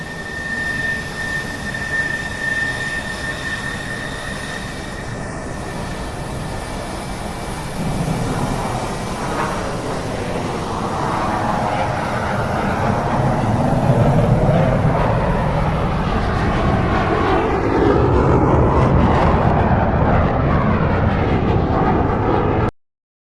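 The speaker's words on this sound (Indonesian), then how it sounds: "Airplane, pesawat terbang." An airplane engine gives a broad, continuous roar that swells slightly louder toward the end and then cuts off abruptly, with no voices.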